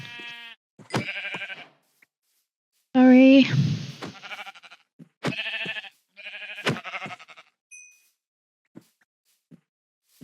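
Sheep in the video game Minecraft bleat in several short, wavering calls with gaps between them, alongside a brief spoken word and a few faint chimes.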